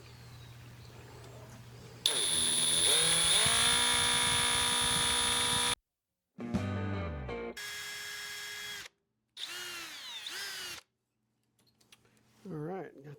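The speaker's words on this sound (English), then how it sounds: "now we're ready to drill the number one" A power drill bores into a cylinder on a Sonex aircraft under construction, running loud and steady for several seconds, then starting again in shorter bursts with a whine that changes pitch and short pauses between them.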